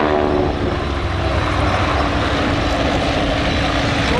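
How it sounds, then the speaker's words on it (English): Propeller aircraft engine roars loud and steady at a flying display at Little Gransden, a continuous close, dense drone filling the whole stretch with no break. "It's a pretty amazing aircraft."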